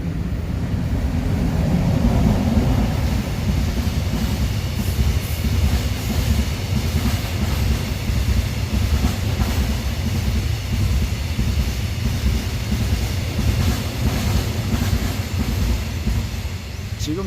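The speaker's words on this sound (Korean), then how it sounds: "지금 여기가 기차역이다 보니까 화물열차가 정차하진 않고 무정차로 통과를 했습니다" A freight train runs straight through a railway station without stopping, a loud, steady low rumble of rolling wagons with faint clickety-clack that holds for the whole stretch and eases off only at the very end, with no voices over it.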